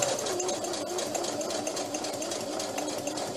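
A sewing machine runs a straight stitch through cardstock. The motor whirs at an even, steady pace close by, with a fast mechanical chatter that never stops and no voices over it.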